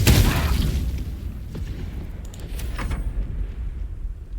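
A fire spell bursting in Baldur's Gate 3, a loud, deep boom at the start with a broad crackling rush that fades into a rumbling tail, with a few small pops and flickers trailing behind.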